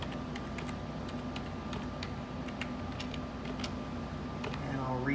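Rapid clicking keystrokes on a computer keyboard while a password is entered during Windows 10 setup on a Dell OptiPlex 3010, close and clear over a steady fan hum.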